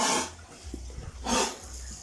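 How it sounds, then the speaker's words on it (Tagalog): A sow gives two rough, breathy coughs, one at the start and another about a second later, fairly near, with low grunting between. "May inuubo tayong isang inahin doon."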